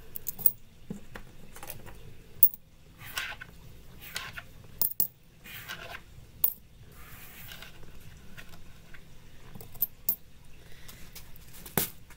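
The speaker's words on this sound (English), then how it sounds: "Now I add the silver coins." Silver coins drop into a glass spell jar in a quiet room, a run of separate bright metallic clinks and jingles spread unevenly over several seconds, with no voices.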